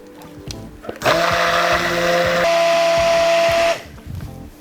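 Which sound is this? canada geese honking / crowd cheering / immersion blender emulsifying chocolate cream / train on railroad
immersion blender emulsifying chocolate cream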